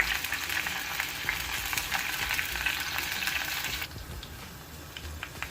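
Curry leaves and green chillies fry in hot oil in a pan as a fish curry base, with a bright, steady sizzling crackle that drops to a quieter hiss for the last couple of seconds.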